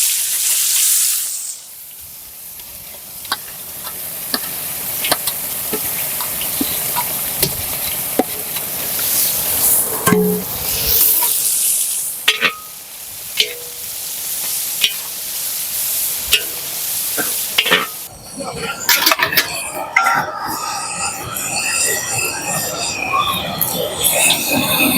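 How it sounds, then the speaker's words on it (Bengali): Carrots and capsicum fry in a pan while being stirred, giving a steady sizzle broken by scraping utensil knocks, with a louder, busier stretch of frying toward the end. "গাজর সুন্দর করে ভেজে নেবো।"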